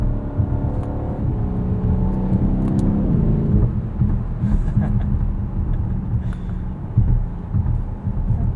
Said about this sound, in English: You get just a little hint of a burble from the exhaust.